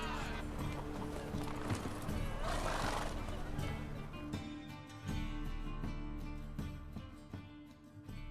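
Roach, a horse in The Witcher 3: Wild Hunt, lets out a neigh while its hooves clip-clop steadily, set against a dense wash of game background sound and music.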